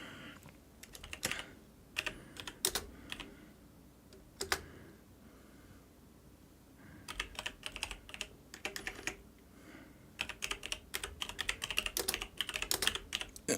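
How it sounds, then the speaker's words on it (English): Quick bursts of typing on a computer keyboard, close and crisp, with clustered keystrokes broken by short pauses and a denser run toward the end, no voices over it. "I'm just typing something real quick."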